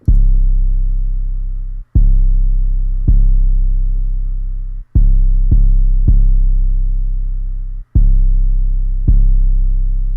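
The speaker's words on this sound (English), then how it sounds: "Moving on to the drums, I have an 808." Deep booming 808 bass drum hits with long decaying tails, several loud strikes in an uneven rhythm, each fading before the next.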